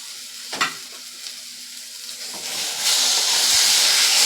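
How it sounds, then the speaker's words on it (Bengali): Spice paste with chili powder and sour yogurt sizzles and fries in a pan for a Bengali katla fish head kalia, steady close hiss swelling louder near the end with a brief stir clatter early on. "টক দইটা দিয়েও কিন্তু মশলাটাকে আরও মিনিট 5 মতন কষিয়ে নেব।"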